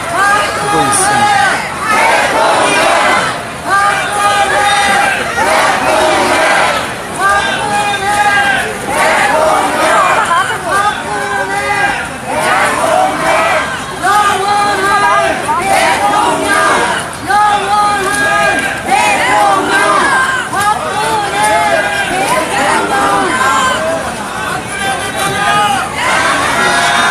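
A large crowd of supporters cheers and chants on a Korean street as former president Park Geun-hye returns to her private residence in 2017. The massed voices stay loud and continuous, rising and falling in repeated rhythmic surges.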